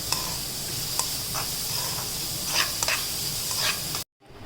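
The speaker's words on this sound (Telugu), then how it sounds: "కొంచెం క్యారెట్ తురుము ఇది కూడా ఒక టూ మినిట్స్ మనం సాటే చేసుకోవాలి" Grated carrot sautéing in a pan, giving a steady hiss of sizzling with a few scrapes of stirring, then cutting off abruptly near the end.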